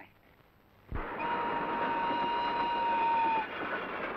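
A running train on its rails, a loud rumbling rush that starts abruptly about a second in with a sustained horn-like tone riding over it, then eases slightly toward the end.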